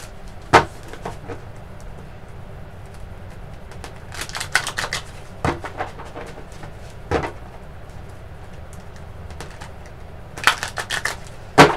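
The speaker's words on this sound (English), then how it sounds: "just give me a little minute to shuffle for you" Tarot cards being shuffled by hand in a bathroom, heard as scattered sharp riffling snaps and taps in short clusters over a quiet background, with no talking.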